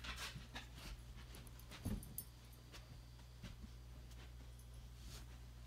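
A new puppy pants softly and whimpers now and then, close by but faint, over a steady low hum from the room.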